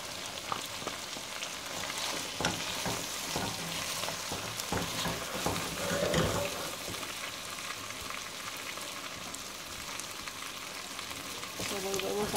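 Onion goes into a pan where chicken is frying for chicken with chickpeas and spinach, producing a steady close crackling sizzle broken by clattering stirs and scrapes, with a louder hiss midway as the onion lands.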